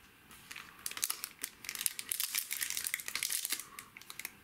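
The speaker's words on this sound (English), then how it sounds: "Tried to open the pack and it literally just ripped off the peely bit instead of opening the pack" A Yu-Gi-Oh Genesis Impact booster pack's foil wrapper crinkles and tears open up close, a run of bright crackling rips and rustles over several seconds.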